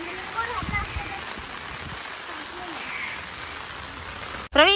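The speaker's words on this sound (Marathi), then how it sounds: "मित्रांनो पाऊस चालू झालेला आहे." Rain falling in a Mumbai park, a soft steady patter across the ground and foliage, with people talking over it and a louder burst at the very end.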